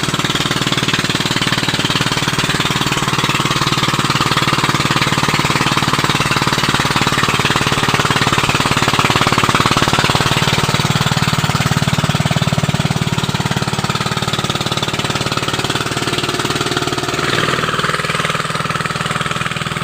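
A loud, steady water pump engine drones and chugs continuously, close by, with a rough mechanical rattle and no voices.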